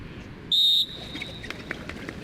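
A single loud, sharp whistle blast starts a 2 km track time trial outdoors, holding for about a third of a second before the runners' footsteps and faint movement follow.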